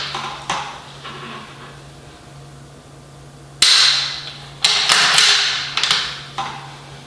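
A rifle bolt is worked, with sharp metallic clicks and clacks, one early and a cluster of louder scraping clacks later, close by over a faint steady hum.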